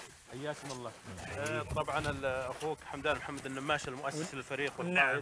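Pigeons coo among trees in a mountain oasis at Al-Jubbah in the Hail region, a soft bird sound mostly buried beneath someone talking steadily up close.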